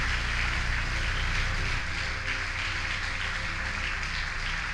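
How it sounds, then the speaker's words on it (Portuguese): A church congregation applauds in a steady, dense wash of clapping that holds at an even loudness throughout with no gaps. "Aplauda aquele que vive e reina para sempre"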